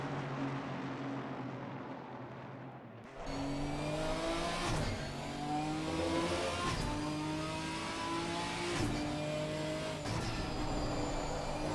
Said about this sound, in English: with the arrival of Helgalian now carving his way up past the Aston Martin and the 2 Mercedes cars we just see in the background there